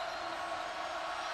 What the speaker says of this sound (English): they have found reason to stand up and cheer now